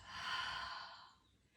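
One soft, breathy exhale during a Pilates exercise, a close, quiet airy rush that fades out over about a second, with no talking.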